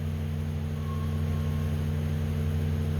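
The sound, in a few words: wood chipper running at the neighbors' next door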